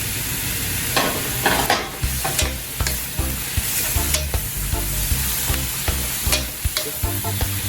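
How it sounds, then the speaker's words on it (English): Zucchini and mushrooms sizzle steadily in a pan while a utensil stirs and scrapes through them, giving repeated knocks over a constant loud frying hiss. "So while I'm adding the zucchini and cooking them halfway, the mushroom is cooking too."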